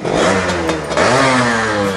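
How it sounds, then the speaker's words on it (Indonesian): A Yamaha F1ZR two-stroke motorcycle, started and revved close by: a loud, buzzing engine note that dips and then climbs again as the throttle opens, with no talk. "kayaknya nggak ada gitu electric starter seperti ini"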